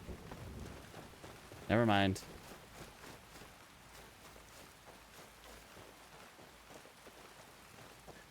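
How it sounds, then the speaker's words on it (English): Steady rain falls in the video game Skyrim, a constant soft hiss that runs throughout, with a brief spoken line near the start. "Crazy rain, huh?"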